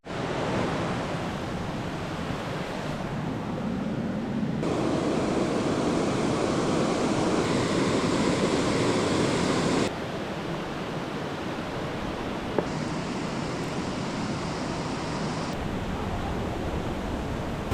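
Lower falls of a river where fish cannot pass upstream, giving a steady, loud broadband rush of falling water that swells and eases in sections, with no voices.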